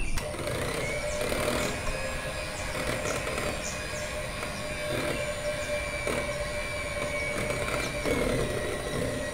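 An electric hand mixer runs at low speed through cake batter with oil just added, a steady close whirring hum with a faint rhythmic rattle lasting the whole stretch, no voices over it.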